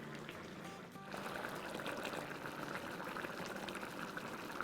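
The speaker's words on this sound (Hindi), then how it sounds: "तेल डाल देते हैं।" Cooking oil pours into a pot of mutton biryani ingredients for a koyla karahi dish, a soft, steady liquid gurgle and sizzle that starts after a brief pause and continues faintly to the end.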